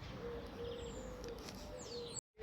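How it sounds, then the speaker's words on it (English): Faint bird chirps and a soft repeated cooing call drift over quiet outdoor background noise before the sound cuts out abruptly. "And the birds too."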